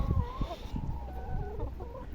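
Ranch hens cluck softly in a few quick, close calls over a quiet barnyard background.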